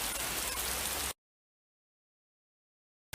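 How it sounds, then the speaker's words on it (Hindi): Steady rain falls in a broadband hiss over a graveyard at night for about a second before cutting to silence, then briefly returning at the end. "बारिश हो रही है।"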